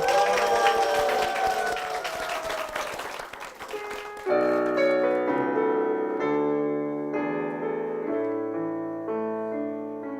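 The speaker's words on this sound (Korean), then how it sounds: "다시 한번 큰 박수 부탁드리겠습니다." Church congregation applause fills the first few seconds, loud and dense, then gives way to a piano or keyboard that carries on alone for the rest.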